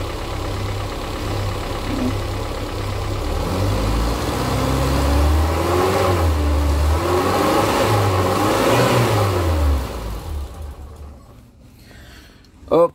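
A Suzuki Carry 1000 engine runs steadily and loud for about ten seconds, rising slightly in the middle, then cuts off into near silence with a brief knock at the end.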